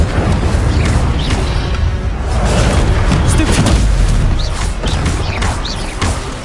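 The Incendio fire spell cast in the Hogwarts Legacy video game, a loud continuous roaring burst of flame with booming rumbles and crackling bursts filling the whole stretch.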